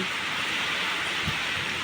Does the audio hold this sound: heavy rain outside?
yes